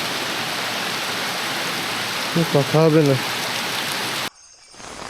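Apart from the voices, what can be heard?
heavy rain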